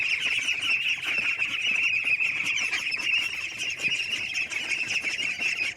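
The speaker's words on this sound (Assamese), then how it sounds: "এয়া হৈছে লোকেল পাতিহাঁহৰ পোৱালি, যিটো আজি এমাহ হৈছে সম্পূৰ্ণ।" Month-old local ducklings on a duck farm call steadily in a dense, continuous chorus of high peeps and chirps, close and fairly loud, with occasional wing flutters and no talking.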